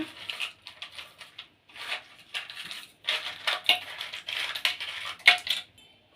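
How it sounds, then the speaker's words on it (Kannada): Ice cubes tumbling into a mixer jar for a frozen mango and pineapple margarita, heard as a series of bright, clattering knocks and rattles in irregular bursts, close by and alone. "ಐಸ್ ಕ್ಯೂಬ್ ಹಾಕ್ಕೊಳ್ಳೋಣ"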